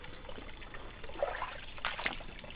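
Water trickles and splashes at Clarinda Falls in the Blue Mountains near Faulconbridge. The flow is faint and close, with soft dribbles and a few small splashes.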